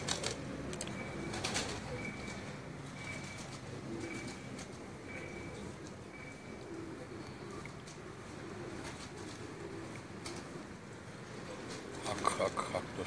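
Soft cooing of domestic pigeons at a home loft in Faisalabad in a steady outdoor ambience, with faint chirps and a low background rumble throughout.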